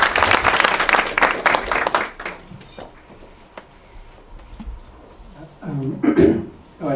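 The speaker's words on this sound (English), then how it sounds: "A round of applause." Applause greets the managing director and CEO of KenGen at a rights issue bell ringing ceremony: a dense burst of clapping for about two seconds, then fading into a quieter room, with a voice rising near the end.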